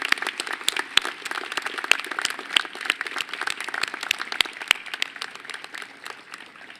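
Scattered, moderately sized applause from a university freshman convocation audience honoring finalists, individual claps distinct and uneven, heard alone at a middling distance.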